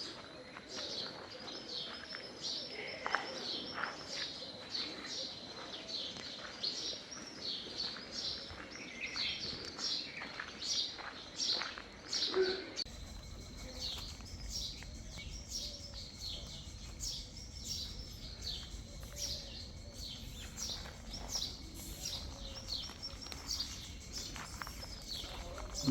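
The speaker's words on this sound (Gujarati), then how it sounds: "ચકલાનો એટલો સ્વીટ સાઉન્ડ, એટલે કે એટલું સ્વીટ સંભળાય છે ચકલા બોલે" Sparrows chirp busily in short repeated bursts at the Bhesla Hanuman temple in Taredi near Mahuva, Gujarat, where cows are tethered in a stable, the calls steady and fairly close over a soft outdoor background.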